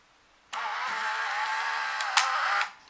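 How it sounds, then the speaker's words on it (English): A Canon AF35M II Autoboy film camera's motor opens the lens cover, whirring for about two seconds with a steady mechanical hum, ending in a brief click before stopping; close and fairly loud. "That is the noise the camera makes when you open up the lens cover."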